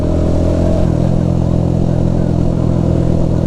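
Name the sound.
motorcycle engine revving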